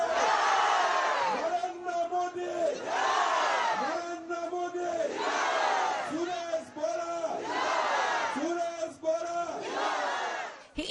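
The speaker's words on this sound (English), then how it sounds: "makes the crowd chant Bharat Mata Ki Jai." A large crowd at a political rally in Assam chants Bharat Mata Ki Jai in loud, repeated call-and-response bursts, each rising shout answered in a rhythmic cycle roughly every two seconds.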